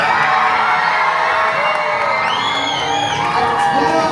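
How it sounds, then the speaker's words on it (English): A large crowd cheers and whoops loudly on the Disney Wish cruise ship for captains Mickey and Minnie Mouse, a dense, continuous roar of voices with children shouting and a few high shrieks rising above the din. "one more hearty cheer for your captains, Mickey and Minnie Mouse!"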